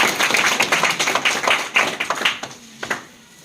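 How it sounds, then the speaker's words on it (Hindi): Clapping from a class of students at a motivational session, a dense patter of hand claps that thins and fades toward the end. "इसके लिए जोरदार तालियां इसके लिए।"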